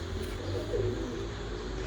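Pigeons of the Kasuri bloodline, kept in a home loft, cooing softly in low, steady murmurs close by, continuous through the moment with no talk.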